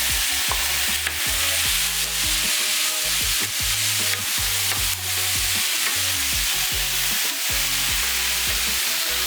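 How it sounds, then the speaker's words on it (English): Chickpeas are stirred into a pot of tomatoes and garlic powder, giving a steady sizzle with repeated scraping and clunking stir strokes, close and loud throughout, with no voices. "Then I'll roll in the chickpea."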